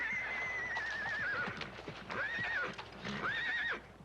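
A horse whinnies in three separate bursts. The first is long and wavering and the next two are shorter, with hooves clip-clopping faintly beneath them at a ranch in the Old West.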